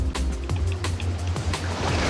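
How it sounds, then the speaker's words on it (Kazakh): Ocean waves in the Roblox game, a continuous rushing wash of water with rhythmic surges and soft splashes, steady and fairly close with no talking. "Мына толқындар кетпей жатыр ше."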